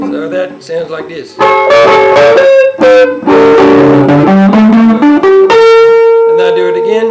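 Electric guitar arpeggio picked through the chords of a blues song, single notes rising and ringing out clearly and loudly, with a long sustained note near the end and no talking over it.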